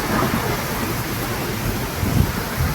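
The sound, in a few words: rain shower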